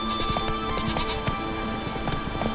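Roach the horse gallops in The Witcher 3, hooves clip-clopping in a steady, close rhythm of repeated thuds over constant game ambience, with no voices during the run.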